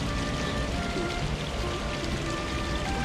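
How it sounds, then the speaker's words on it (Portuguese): Steady rain falls on a green mountainside in Itatiaia National Park, a dense, even patter with water running nearby, continuous and moderately quiet, with no voices. "E chove na montanha."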